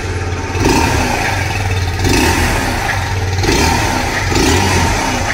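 A Kawasaki Z125 motorcycle engine idles and revs up repeatedly in regular surges, loud and close, with no talking.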